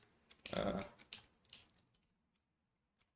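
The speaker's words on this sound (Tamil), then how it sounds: "நான் தான் மேனுவலாக டைப் பண்ண வேண்டியிருக்கு." Keys on a computer keyboard clatter in a short burst of quick taps, then a few isolated clicks spaced out and fading to near silence, close and fairly faint, with no speech.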